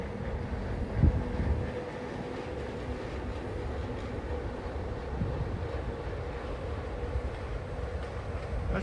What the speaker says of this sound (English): there's the orange monorail. Man, and it's moving.